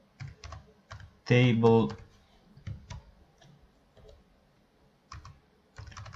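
Quick keystrokes on a computer keyboard, a few short clusters of light taps close by, broken by a burst of speech as a person talks over the typing.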